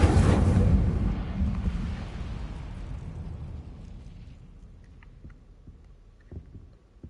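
Incendio fire spell cast in Hogwarts Legacy: a loud burst of flame and rumble that swells at once, then fades over several seconds, leaving a few faint clicks near the end.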